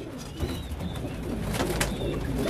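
French meat pigeons cooing in a loft, soft low coos repeating steadily against a constant dense background murmur, close and moderately loud throughout.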